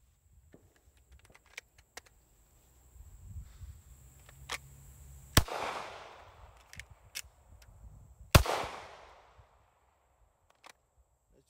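A pistol fitted with a TLR-1 light is drawn from a Blackhawk Omnivore Multifit holster and fired twice, making two sharp, loud cracks about three seconds apart, each with a short echoing tail, amid faint clicks and handling noise.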